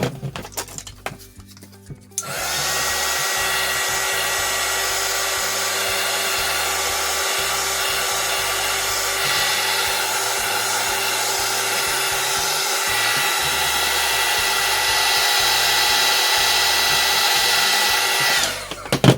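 A hair dryer blows steadily and loudly for about sixteen seconds while drying a Harley bat craft decoration, its start and stop clicks clear at either end, with no talking.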